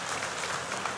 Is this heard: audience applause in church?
yes